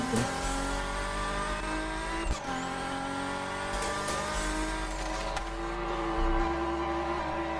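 A racing car engine in a drag racing video game revs high and climbs through gears, with brief tire squeals, loud and continuous.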